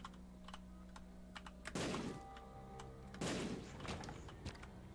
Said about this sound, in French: Je sais qu'on entend beaucoup mon clavier.